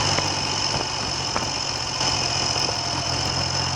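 A Triumph Trident motorcycle engine idles with its lights on, low and uneven at a turned-down tick-over, a steady close rumble with faint ticking and light knocks and no talking.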